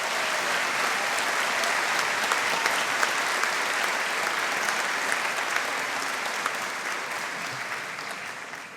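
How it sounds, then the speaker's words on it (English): Steady, dense applause from a large graduation ceremony audience welcoming a group of graduates at a college conferring, sustained at an even level for several seconds and easing slightly at the end. "So perhaps we could have a round of applause for the entire group at this stage."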